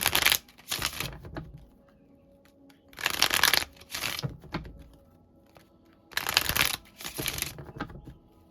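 Tarot cards shuffled by hand at close range in three quick, crisp riffling bursts, each a pair of rapid flutters separated by quiet pauses.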